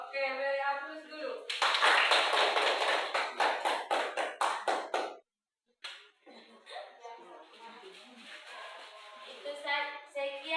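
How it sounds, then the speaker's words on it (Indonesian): A group claps for a school group presentation, with dense, lively applause that lasts a few seconds, preceded and followed by talking. "Oke, beri aplaus dulu."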